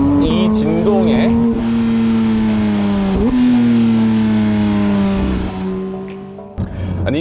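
A Porsche 911 GT3 engine and exhaust hold a loud, steady high-revving tone with small rises and dips in pitch, close and dominant throughout, while people talk faintly beneath it.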